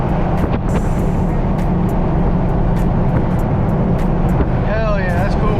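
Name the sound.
LS-swapped Jeep engine accelerating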